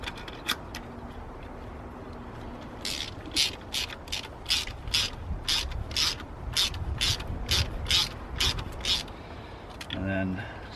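Ratchet wrench tightening an EGR cooler clamp, a run of about fifteen crisp clicking strokes at close range in a steady rhythm, with a short knock near the end.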